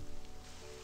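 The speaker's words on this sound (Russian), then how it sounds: "Дождь пошел еще сильнее." Rain falls in a video game at a bus stop, a soft steady hiss of drops that is faint under a low, sustained musical drone, with no speech.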